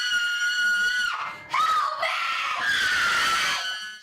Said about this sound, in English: Screams and terror filled the Hawfield Haunted Forest for its opening weekend.